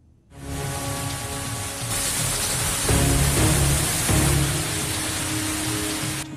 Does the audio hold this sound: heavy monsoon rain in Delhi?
yes